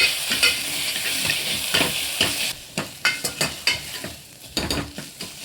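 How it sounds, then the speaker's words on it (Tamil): Ginger garlic paste stirred in oil in a hot pan for mutton kurma, a steady sizzle under repeated scraping strokes of a spatula against the metal, close and fairly loud. "இஞ்சி பூண்டு பேஸ்ட் போட்டதுக்கப்புறம் நல்லா கலரிடுங்க"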